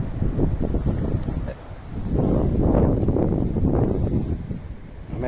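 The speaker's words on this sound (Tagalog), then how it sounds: "Medyo malakas ang hangin mga kalapatids." Strong wind buffets and roars across the microphone in uneven gusts, loud and rumbling, with a brief lull before it surges again.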